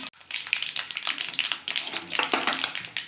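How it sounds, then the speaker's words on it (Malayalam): Mustard seeds, with a little fenugreek, crackle and pop in hot oil in a pan, giving a close, busy stream of sharp little spits and taps with no voices. "കടുക് പൊട്ടാൻ തുടങ്ങി"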